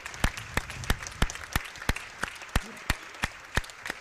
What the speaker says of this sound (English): I'm clapping for these guys.